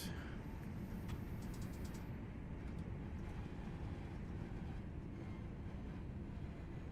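A Birmingham train in Train Simulator pulls into a platform with a steady, even rumble of engine and wheels, continuous and unchanging with no voices.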